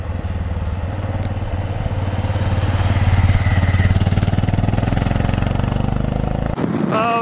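Royal Enfield Himalayan motorcycle riding, its single-cylinder engine thumping steadily and loud up close, the rhythmic firing pulse building through the ride before a sharp cut near the end.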